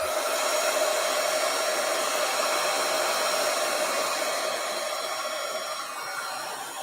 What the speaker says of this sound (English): Now, I'm going to use my heat tool, so bear with me, you guys.